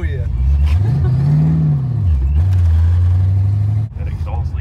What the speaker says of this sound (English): That exhaust leak is terrible.